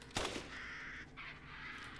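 A single raven in Resident Evil Village gives a sharp, nearby caw, followed by a faint low game ambience.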